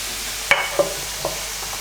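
A spoon stirring cauliflower pieces frying in a pan with pepper and spices, a few sharp scraping knocks over a continuous soft sizzle, close up with no speech.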